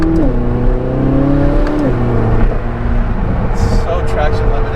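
A sports car engine revs on a damp road, its pitch climbing and dropping in smooth steps over a steady rumble of road and wind noise.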